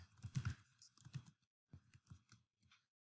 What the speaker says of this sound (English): let's go ahead and type something